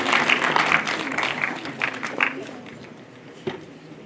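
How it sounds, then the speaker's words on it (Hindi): Children at a school career seminar clapping to welcome guests, a burst of applause that fades out over a few seconds, with some crowd shuffling and a single knock near the end. "सभी बच्चे तालियां बजाकर इनका खैर मकदम करें।"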